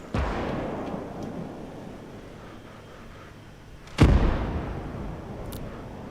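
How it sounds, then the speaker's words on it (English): Artillery fire in a modded video game: one deep, heavy boom near the start and a sharper, louder blast about two-thirds through, each rolling off into a long rumbling tail over a low background. "so that's my guy shooting back at the enemy artillery"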